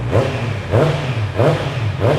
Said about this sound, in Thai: มา ฟังเสียงของท่อนี้กัน